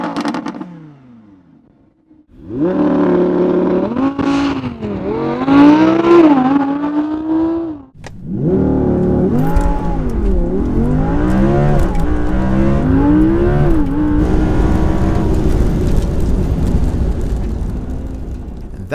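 A 916 bhp Audi RS6 engine idles briefly, then revs hard in loud rising sweeps, drops out for a moment, and roars into a launch with climbing gear pulls that stay loud to the end.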